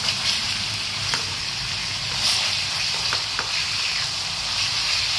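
Pork ribs with lemongrass salt fry in a pan with a steady, close crackling sizzle, a few sharper pops and spits breaking through now and then.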